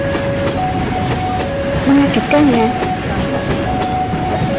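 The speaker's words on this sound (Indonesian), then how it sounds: "Suara kereta yang sangat keras yang mendekatinya itu" A loud train sound effect of a passing or approaching train: a steady, dense rumble with a sustained whistle-like tone running throughout, while a voice briefly speaks over it midway.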